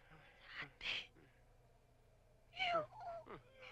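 A cat meows twice with a short pause between, the calls moderately close over a faint background hum.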